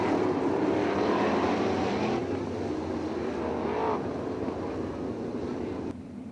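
305 sprint cars race at Attica Raceway Park in Attica, Ohio, their engines a loud, sustained roar that swells and fades slightly as they pass, with a shifting pitch sweep midway.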